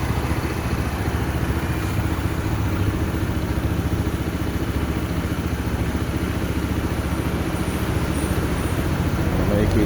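A 2026 Honda PCX 160 scooter engine runs at a steady, close idle with an even low putter, while a voice talks in the background.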